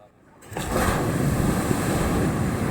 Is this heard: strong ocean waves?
yes